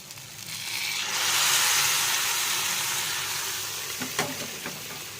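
Red lentils are poured into an ivy gourd (kundri) curry sizzling in oil tempered with dried chillies and radhuni, a hiss that swells and holds steady, with a few faint clinks near the end.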